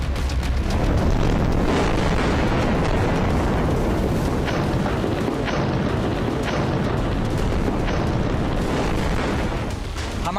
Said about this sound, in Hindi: इजरायली टैंकों और बख्तरबंद गाड़ियों को धमाके से उड़ाया है।